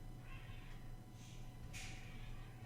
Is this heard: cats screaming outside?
yes